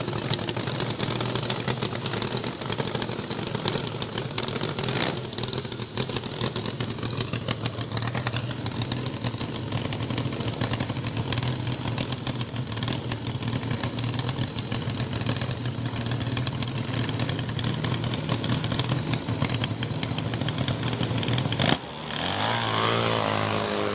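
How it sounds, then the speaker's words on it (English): Two drag racing motorcycles with 500 Triumph motors, one single engine and one pair of coupled Triumph units, roar loudly and steadily at a drag strip, a dense continuous engine din that cuts off abruptly near the end. "So both using 500 Triumph motors, one engine in the Kestrel lane and the two Triumph units coupled together"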